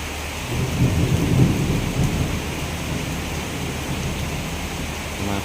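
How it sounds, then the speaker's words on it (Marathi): Heavy rain pours steadily on a flooded road while a low rumble of thunder swells early and fades, with no voices. "पाऊस यायला लागला आहे"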